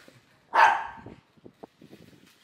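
A small female dog lets out one sharp, close bark beside a remote-control toy car, followed by a few faint scuffs and small noises.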